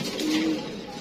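Pigeon coo from a pair of red fancy pigeons, single males kept for sale, a soft low call sounding once over a second amid a background murmur.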